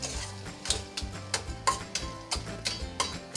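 Mango patishapta pitha mixture being stirred in a pan, producing soft, regular scraping strokes about twice per second, quiet and close, with no voices.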